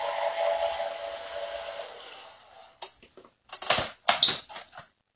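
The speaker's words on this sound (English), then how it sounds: "what we're going to do is take this with the dryer" A hair dryer blows steadily over skin prep on a prosthetic makeup application, a constant airy whoosh that fades out, followed by several short scattered rustling and handling sounds.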